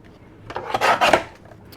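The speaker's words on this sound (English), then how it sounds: "I'll cut a 1/2 inch strip to go on the inside" A pair of scissors cuts a half-inch strip from a paper scrap, giving a brief close rasping snip that swells and fades within about a second.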